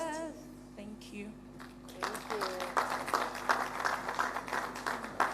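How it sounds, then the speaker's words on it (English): Audience applause rises after a moment of talk at a national day event in Nigeria, the clapping swelling into dense, uneven bursts that continue to the end. "A round of applause for her."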